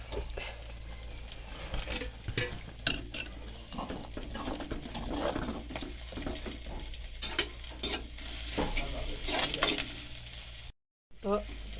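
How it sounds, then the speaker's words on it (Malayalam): A spoon scrapes and stirs through koottu curry in a sizzling pan, with soft clinks and bubbling, ending in a brief cut to silence. "നന്നായി മിക്സായി കൊടുക്കുക"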